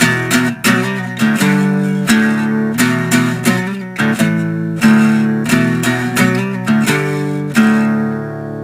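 Full guitar riff from a song, a steady run of strummed chord hits in a repeating rhythmic pattern, loud, close and unbroken, with no voice over it.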